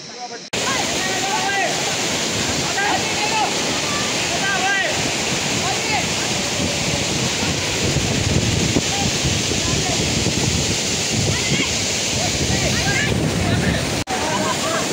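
Mohini waterfall, a loud continuous roar of rushing water filling the whole scene, with a voice talking faintly underneath and some wind buffeting the microphone.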